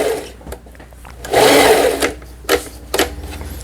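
Singer sewing machine stitching a quilting stitch, running in short bursts with one longer whirring run, followed by brief stops, starts and mechanical clicks up close.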